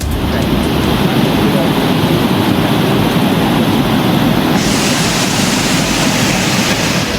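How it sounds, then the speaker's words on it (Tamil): Thiruparappu waterfall in flood, a dense and unbroken roar of heavily falling water, loud and close and constant throughout, with no voices heard. "நெல்லை மாவட்டம் மணிமுத்தாறு அருவியில் ஏற்பட்டுள்ள வெள்ளப்பெருக்கால்"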